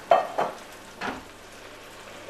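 Beer boiling and sizzling in a pan with fresh chicken sausages, a low steady frying hiss broken by a few close stirring clinks and scrapes, with no talking.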